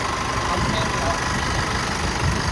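Engine of a used towing vehicle idling under the open bonnet, a steady, fairly loud and somewhat noisy mechanical drone that holds evenly throughout, with a person speaking over it.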